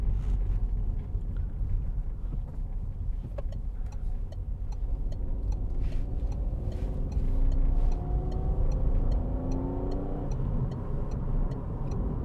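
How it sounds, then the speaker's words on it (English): A 2016 Citroen C3 Picasso with a 1.2 PureTech three-cylinder petrol engine drives along, its engine buzz rising and falling under steady road and tyre noise from inside the car. "It's got the little buzz from the three-cylinder engine, which is quite good."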